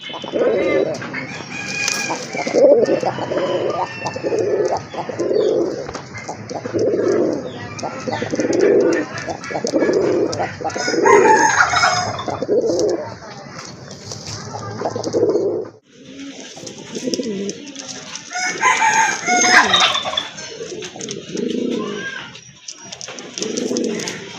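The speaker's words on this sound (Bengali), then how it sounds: "যারা মিলিবার ভিতরে রাজগোল্লা কবুতর খুঁজতেছেন এই জোড়াটা তাদের জন্য বেস্ট একটা পেয়ার হবে" A pair of large Rajgolla pigeons, a male and a female, coo loudly and close by in steady rhythmic pulses, with a brief break before the cooing resumes.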